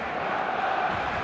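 A packed stadium crowd in the eFootball video game roars loudly and continuously, a dense wall of noise with no gaps.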